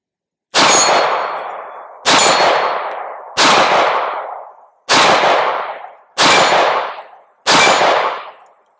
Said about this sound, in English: We'll try to hit the steel target about 20-25 yards.